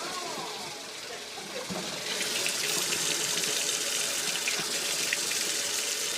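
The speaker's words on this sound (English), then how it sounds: "Wash my hands real quick so that we don't contaminate everything." Tap water runs steadily into a sink while hands are washed during cooking, the flow growing louder and fuller after a couple of seconds and staying continuous.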